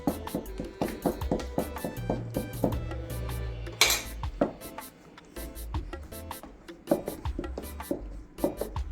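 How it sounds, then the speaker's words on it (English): A spoon folds butter substitute into a sweet potato pudding mixture in a bowl, making repeated close clinks, taps and scrapes in an uneven rhythm. "So I'm going to fold this in now."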